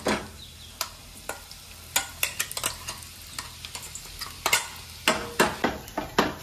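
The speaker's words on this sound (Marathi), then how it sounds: "फोडणीसाठी अर्धा चमचा जिरं, मिरच्या लसूण आणि शेंगदाणे आपण बारीक करून घेतले आहे, ते आपण फोडणीत टाकूया" Ground cumin, green chillies, garlic and peanuts dropped into hot oil for tempering, sizzling steadily up close while a spoon clicks and scrapes against the pan in quick irregular taps.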